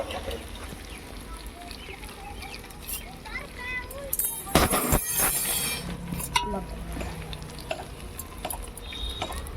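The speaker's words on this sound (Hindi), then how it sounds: "तो मैं यहाँ छौंक रही हूँ कढ़ी।" Garlic and spices for kadhi sizzle and crackle in hot oil, with a louder burst of frying midway, while a voice talks nearby.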